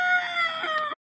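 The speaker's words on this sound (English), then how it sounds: "Blue hen." A blue hen gives a steady stretch of loud, close fowl calling, a continuous clucking cry that carries for about a second before cutting off abruptly into silence.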